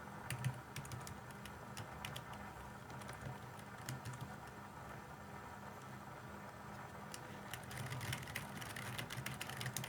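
Soft, quiet typing on a Logitech MK220 wireless keyboard, a steady patter of light key taps heard faintly against low background noise.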